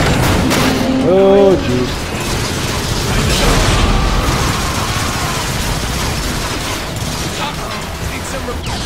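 Rockets explode in the video game Transformers: Fall of Cybertron, a dense barrage of bursts and mechanical clatter with a brief whirring tone, while a man briefly exclaims over the action.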